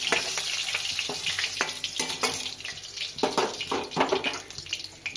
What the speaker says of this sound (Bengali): এবার আমি আলুগুলোকে ভেজে নেব।